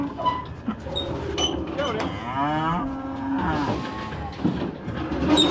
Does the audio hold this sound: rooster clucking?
no